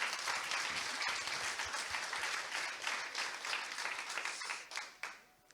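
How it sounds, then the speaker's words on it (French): A conference audience applauds four speakers at a session on co-constructing care for people with profound multiple disabilities. Dense, even clapping fills the room for about five seconds, then thins and fades out at the end. "je pense qu'on peut les applaudir toutes les 4 pour ces beaux témoignages."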